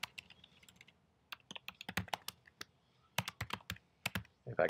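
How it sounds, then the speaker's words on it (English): Quiet typing on a computer keyboard, scattered key clicks in uneven bursts with short pauses, close and alone with no talk. "if I can type today"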